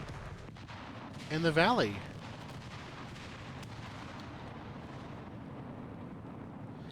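Explosions in the video game Valley sound as one short, loud, warbling blast that swells and fades in under a second over low background game noise, with a person speaking briefly nearby.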